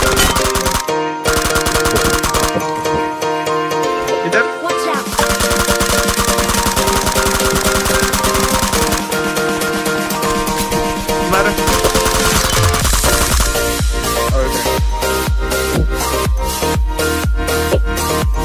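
Rapid, sustained automatic gunfire from the mobile battle royale game BGMI plays loud and dense for most of the stretch under continuous background music, then breaks into sharper separate bursts near the end.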